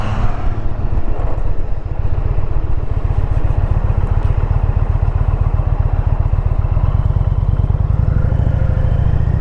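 A Harley-Davidson Road Glide's V-twin engine pulls hard through its rev range on the road, a loud, close, throbbing exhaust note with steady wind rush over it, no talking.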